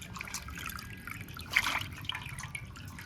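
Goat meat is rinsed in water, giving faint, close trickling and gentle sloshing with a brief splashier moment in the middle.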